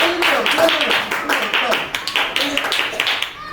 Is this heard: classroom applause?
yes